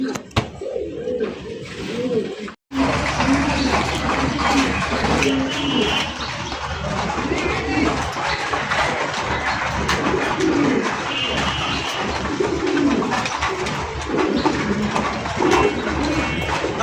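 Pigeons sold as a pair at a pigeon market coo continuously in a dense, close chorus, with low throaty calls layered over a busy background.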